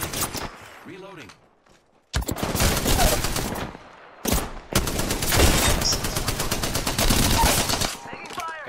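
Video-game gunfire in Apex Legends comes in two long automatic bursts broken by short gaps and a quiet reload stretch, loud and close with game effects in between.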